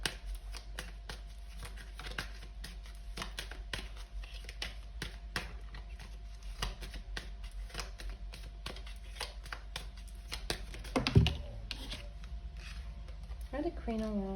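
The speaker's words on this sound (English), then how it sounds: "We're gonna pull some more cards." Tarot cards being shuffled and pulled, a rapid close patter of card flicks and slides running throughout, with a person speaking over it.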